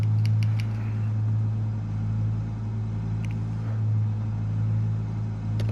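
Engine drone from a racing car holding a burnout in Gran Turismo 7, a steady loud low hum lasting throughout with slight swells and a couple of brief higher clicks.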